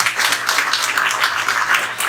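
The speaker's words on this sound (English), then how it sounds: "give a round of applause for Slavoj and Russ, Sbriglia" An audience at a panel discussion applauds the speakers, a dense, even wash of many hands clapping together at close range, with no voices over it.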